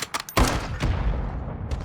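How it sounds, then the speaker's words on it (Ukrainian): Bursts of gunfire in Call of Duty Warzone as players shoot at a drone: a loud, dense volley of shots with rapid crackling reports, continuing with scattered blasts through the rest. "стріляють по дрону"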